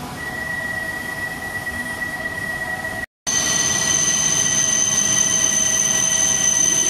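A Shinkansen bullet train runs along the track in Japan, giving a loud, even rolling roar with sustained high whining tones. The sound cuts out for a moment partway through, then picks up again.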